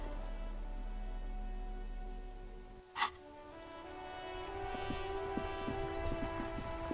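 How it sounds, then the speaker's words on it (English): Rain falls steadily in the video game Disco Elysium, an even patter with a single sharp click partway through and no talking. "It's raining again."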